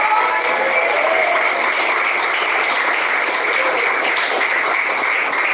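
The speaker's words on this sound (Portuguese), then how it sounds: "Quem bate palmas?" Church congregation applause, a loud, continuous wash of many hands clapping together that holds steady and close for several seconds with no talk over it.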